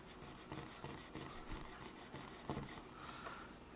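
A 180 grit fret eraser rubbed on guitar frets, giving a quiet, steady scratchy rasping with short back-and-forth strokes, close and soft, with no talk.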